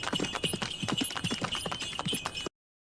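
Horses setting off with riders, their hooves making a brisk, steady clip-clop that is close and continuous for about two and a half seconds before cutting off abruptly.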